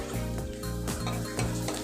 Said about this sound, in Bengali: বাগারের জন্য আমি আলাদা রসুন একটা ছোট কড়াই বসিয়ে দিলাম